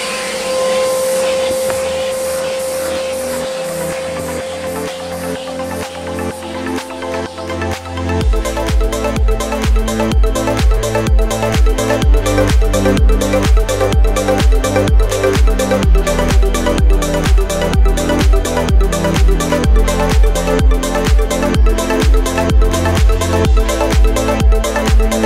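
A vacuum cleaner fitted with a Fur Eel attachment cleans a dirty car interior, a loud steady drone that starts up and then holds at full power with continuous whirring and a faint tonal whine, with no talking.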